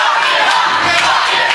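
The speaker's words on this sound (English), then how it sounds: "And the crowd, you can hear the crowd" A wrestling crowd at a Legacy 2010 match roars and cheers continuously, a loud, dense wall of voices with brief swells of shouting.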